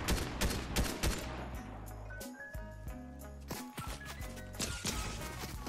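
Rapid gunfire bursts in the video game Fortnite crackle loudly and repeatedly over a steady low game soundtrack, with several sharp shots clustering near the start and again toward the end.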